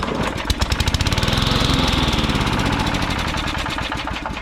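A Briggs & Stratton engine on a Cooper Cyclo-Mo-20A mower runs loud and close, starting with a rapid chugging pulse that settles into a steady, busy roar.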